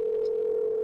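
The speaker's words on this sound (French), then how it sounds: "Joshua, réponds au téléphone." A telephone ringing with a steady, unbroken electronic tone that is moderately loud and holds for under a second, with no voices.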